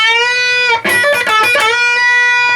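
Solo electric guitar phrase: a long held bent note, a quick burst of picked and hammered notes, then another sustained tone, clean and close.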